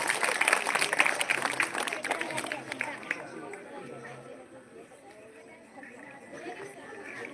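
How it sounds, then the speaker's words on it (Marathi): Applause and crowd noise from an audience after a school dance performance at a Constitution Day event in Anandkheda, loud clapping at first then fading into murmuring voices and hall ambience. "जोरदार टाळ्या झाल्या पाहिजे परत एकदा"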